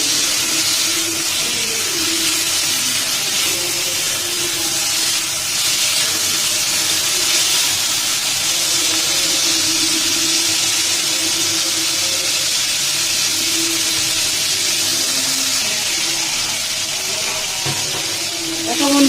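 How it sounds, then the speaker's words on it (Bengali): Okra frying in hot oil while being stirred, a constant loud sizzle and hiss that stays dense and even throughout, with faint scraping underneath. "ভেন্ডিটাকে আমি নেড়ে চেড়ে ভেজে নিচ্ছি।"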